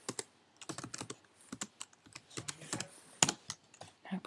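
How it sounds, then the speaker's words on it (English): Someone types on a MacBook Pro keyboard, producing quiet, close, irregular clicks in short bursts, with one sharper key press near the end. "so I'm gonna type in MacBook Pro"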